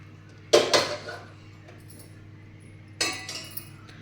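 Ragi laddu mixture being mixed with sugar syrup in a bowl, heard as two bursts of utensil clinks and scraping, close and fairly loud with quiet gaps between, no talking.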